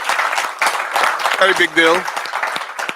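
Conference audience applauding, scattered clapping running under a speaker's voice throughout, with a brief sung or drawn-out vocal tone in the middle.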